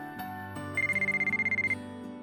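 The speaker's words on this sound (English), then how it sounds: "The moment I was about to board the train, my cell phone rang." A soft cell phone ringtone from the White Album 2 visual novel plays as a quick pulsing melodic chime for about a second, laid over a steady musical backdrop with no talking.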